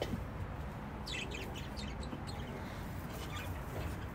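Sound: birds chirping

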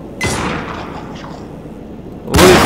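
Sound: gunshot in the video game Anabiosis: Dream of Reason

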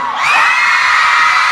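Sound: fan crowd screaming and cheering

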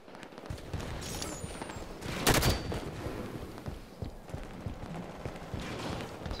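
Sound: assault rifle gunfire in video game Halo 5

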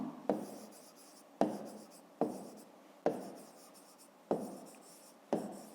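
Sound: writing numbers by hand

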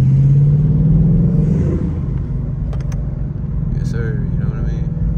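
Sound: Ford Mustang GT V8 engine while driving

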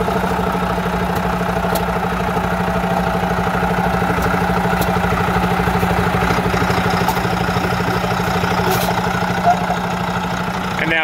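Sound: S13 truck diesel engine idling quietly

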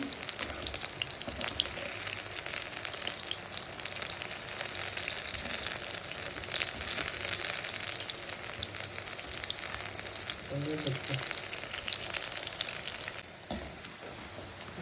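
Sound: deep-frying mushroom pakoras in oil

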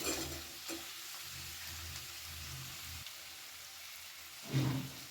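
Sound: fried prawns being added and stirred into masala

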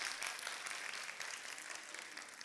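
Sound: applause from Fenerbahçe fans

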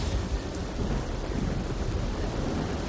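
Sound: rain and thunder in Spider-Man 2 video game

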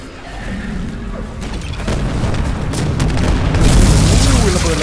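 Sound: explosions in Dead Space video game

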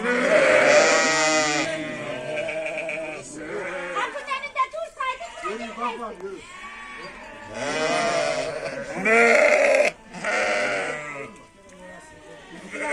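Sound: sheep bleating during milking

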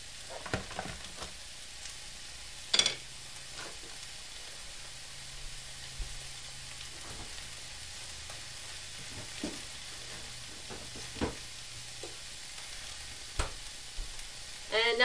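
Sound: carrots frying in a pan

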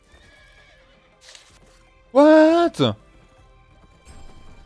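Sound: horse mount clip-clopping in the video game Revelation Online

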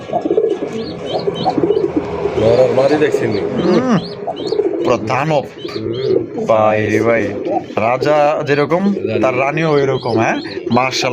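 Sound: pigeons cooing

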